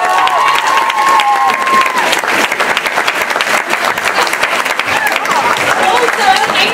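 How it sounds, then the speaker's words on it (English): A school talent show audience claps and cheers for the host, loud sustained applause with scattered shouts and children's voices mixed in across the whole stretch. "Give a big round of applause for the host."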